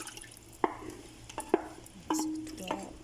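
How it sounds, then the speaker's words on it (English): A spoon stirs rice and beef in a pot, a few distinct scraping knocks against the metal, close and moderately loud, with a short sustained scrape near the end. "Mix it well."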